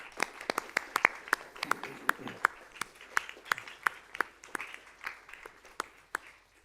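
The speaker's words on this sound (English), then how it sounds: "Now an applause for Rita Sharon for his talk, her talk." A university lecture audience applauding steadily for several seconds, with individual sharp claps standing out from the crowd noise.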